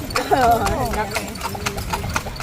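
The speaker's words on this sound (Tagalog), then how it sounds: "malaki yung kabayo at saka handsome yung kabayo namin" Horse hooves clip-clop at Luneta Park as a large horse walks along, with a steady run of clopping steps heard beneath a nearby person talking.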